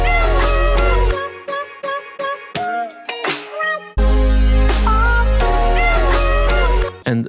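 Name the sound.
synth chords played on top of bass line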